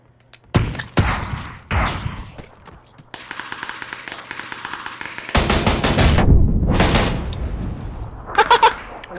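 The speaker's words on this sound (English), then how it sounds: "Shotgun OP." Loud shotgun blasts and bursts of gunfire from a PUBG duos match, sharp close shots separated by gaps, followed by a long noisy stretch and quicker pops near the end, with brief speech mixed in.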